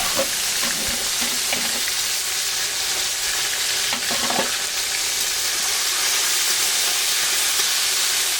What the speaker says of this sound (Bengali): এবার ডালের জন্য ইলিশ মাছের মাথাগুলো ভেজে নিচ্ছি, সাথে ইলিশ মাছের লেজগুলোও দিয়ে দেবো